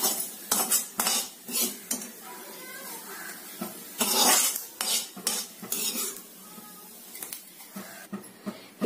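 Roasted jackfruit pieces for chakka halwa are scooped from the pan onto a plate, with close metallic spoon scrapes and clinks in irregular bursts and quieter gaps between, plus a few faint background sounds.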